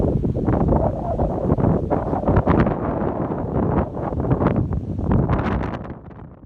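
Strong, gusty wind roars continuously across the microphone on an island shore, loud and close, with no voices.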